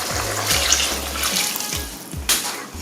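Water poured into a cooking pot holding seasoned chicken for fricassee, a run of splashing pours and gurgles with short gaps between them, close and fairly clear.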